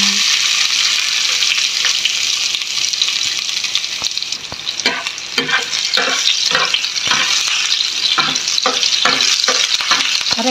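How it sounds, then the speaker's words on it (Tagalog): Garlic fries in hot cooking oil, a loud steady sizzle with repeated stirring scrapes from a utensil running through the middle and end. "So, mainit na yung ating mantika. Ilalagay na natin yung bawang."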